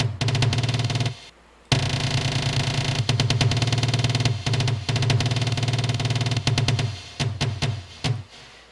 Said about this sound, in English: this is just a marching sound that I usually use on snares, but I used it for a tom